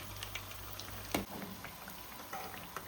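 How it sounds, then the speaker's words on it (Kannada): Ramadan sweets fry in hot oil until golden brown, giving a faint, soft bubbling sizzle. A single clunk breaks in partway through, then the gentle crackle carries on quietly. "ಇವಾಗ ಎಣ್ಣೆ ಬಿಸಿಯಾಗಿದೆ ಇವಾಗ. ಸೊ ಲೈಟಾಗಿ ಇದನ್ನು ಫ್ರೈ ಮಾಡ್ಕೊಳ್ಳೋಣ."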